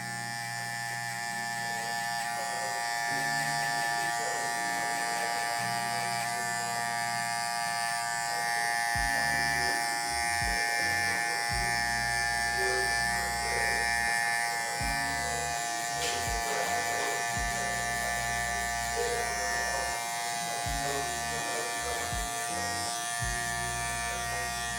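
Electric hair clippers fitted with a one guard, lever fully closed, buzz steadily while cutting short 4C hair, the motor's drone dipping and surging in uneven passes as the blades move through the hair, without any talking.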